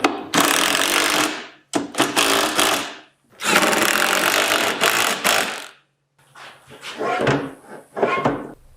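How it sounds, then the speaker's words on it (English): A power drill bores pilot holes into pallet wood for lag bolts, running in several loud bursts of a few seconds each, separated by short pauses, with lighter grinding pulses toward the end. "I'm just going to drill a pilot hole into the wood"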